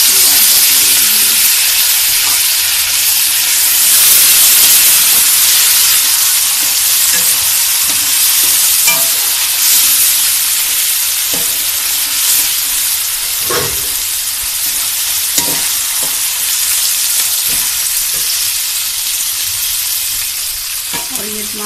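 Green peas frying in a pan with onions and spices, giving a steady loud sizzle and hiss with occasional stirring scrapes throughout.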